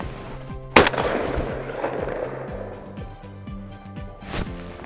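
A single sharp shotgun blast at a clay target during a French hunting licence practical exam, loud and close, with a second shot near the end over a steady background hum.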